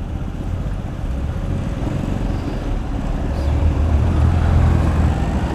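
A car overtaking on the road past a Honda Biz 100 motorcycle cruising at speed, heard as a steady wash of wind and road noise with a low engine hum that grows louder toward the end as the vehicle passes close by.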